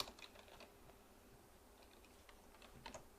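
Quiet, irregular keystrokes tap on a computer keyboard while text is entered in katakana, with short clusters of clicks and brief pauses and no voices.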